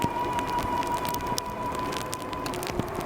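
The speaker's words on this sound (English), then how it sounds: "Dang, it's raining, bro." Rain falls during an outdoor ride on a Hovsco HovBeta folding e-bike, a steady patter and hiss with scattered sharper drops and a faint constant tone, heard close and continuous.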